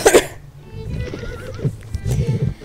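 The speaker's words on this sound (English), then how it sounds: "The sound of horses made me quickly look away from the mirror to look at my window." Horses near a window give a sharp whinny at the start, followed by snorting and a muffled, shuffling clatter of hooves at moderate distance.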